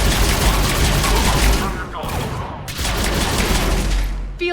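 Sustained gunfire in a Mass Effect 3 battle, dense rapid automatic bursts filling the scene loudly with a brief lull near the middle, mixed with game voices and combat noise.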